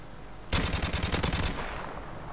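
A sudden loud burst of rapid gunfire in a competitive shooter round, a quick rattling string of shots lasting about a second before fading into room tone.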